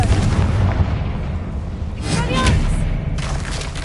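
A Confringo fire spell explodes in a wizard video game, a loud booming blast with a rumbling low-end burst that swells midway and lingers under a dense game soundscape.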